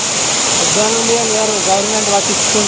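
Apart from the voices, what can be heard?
large waterfall near Kuntala Falls, Telangana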